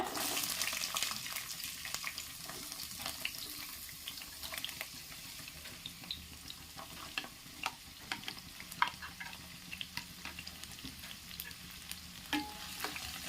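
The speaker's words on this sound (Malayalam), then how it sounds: "നമ്മൾ എടുത്ത് വെച്ചേക്കുന്ന ചെറിയുള്ളി ഒന്ന് വഴറ്റിയെടുക്കാം" Whole small onions sauté in hot coconut oil in a kadai for a country chicken roast, giving a close, continuous sizzle with crackling pops and spatula scrapes, steady throughout with no voices.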